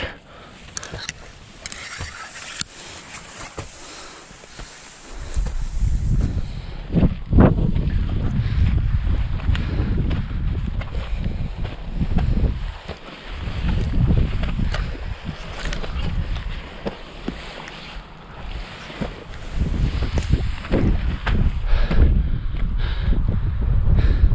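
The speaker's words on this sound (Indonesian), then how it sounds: "Angin udah mulai besar lagi" Strong wind on a mountain hiking trail near the summit above Trunyan roars and buffets the microphone in heavy, uneven gusts. It is fairly quiet at first and then rumbles loudly and steadily, with no voices.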